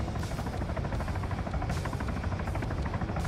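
Helicopter from the Arma 3 combat game, a steady close rotor drone with rhythmic blade thumping that runs unbroken and alone.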